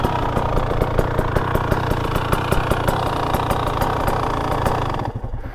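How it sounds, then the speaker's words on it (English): A 300cc two-stroke dirt bike engine runs steadily at a mid idle with a rapid, even mechanical clatter ticking over the buzzing exhaust, loud and close, then cuts out just before the end. "A lot more mechanical kind of clatter noise to it than the Beta"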